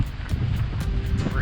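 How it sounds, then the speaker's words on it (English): Strong wind on an exposed hilltop at a ski area along a hiking trail, a steady low roar buffeting the microphone in repeated gusts, close and loud. "And it's very windy, as you can tell."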